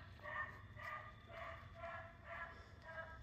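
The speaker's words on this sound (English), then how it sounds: "There's a dog next door." A dog next door barks in a steady series of about six faint, distant woofs, evenly spaced, heard from outside.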